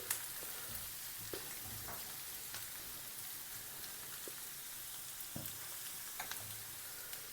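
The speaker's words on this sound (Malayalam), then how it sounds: "ഒരു 2 മിനിറ്റ് ഒന്ന് വഴറ്റിയതിന് ശേഷം നമുക്കിതിലേക്ക് മസാലകൾ ചേർക്കാം" Sliced onions sauté in a pan with chili powder, turmeric and garam masala for a green peas egg masala, producing a soft, faint, continuous sizzle dotted with scattered small crackles and pops.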